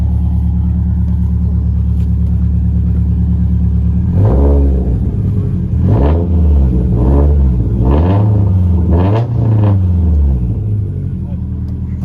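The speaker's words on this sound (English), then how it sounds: "Go give it a little rev." A 2017 Subaru WRX STI with a roughly 400 whp build idles steadily, then revs hard several times in quick blips from about four seconds on, loud and close, with voices talking over it.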